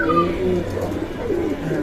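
A racing pigeon of Copman and Superman lines, arriving and being counted at a loft, gives low, rolling coos close by, with a voice talking over them.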